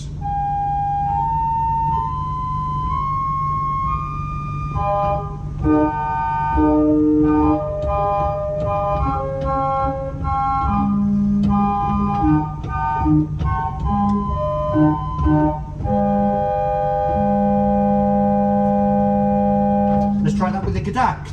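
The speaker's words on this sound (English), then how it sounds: "We have another flute. It is a 4-foot harmonic flute." Pipe organ playing on a 4-foot harmonic flute stop inside a church, sustained clear flutey notes moving through a slow melody with a low held bass, steady and resonant throughout.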